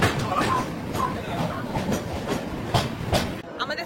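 A Rajdhani Express passenger train on the Sairang to Anand Vihar route runs on rails at night with diesel traction, a steady rumble with repeated clickety-clack wheel beats heard from inside a coach, close and continuous.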